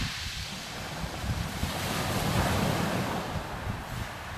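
Sea waves wash and break on Eastney beach as a steady broadband roar, with wind buffeting the microphone and a slight swell in the middle; no one speaks.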